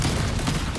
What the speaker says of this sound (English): the recoil from the flak cannons, like, really slows it down when in motion